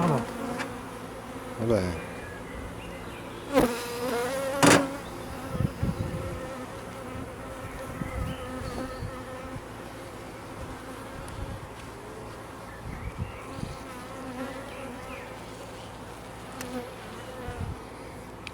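Honeybees buzz steadily around an open hive while a swarm is being created, a continuous drone with a few louder passes close by and brief quiet speech over it.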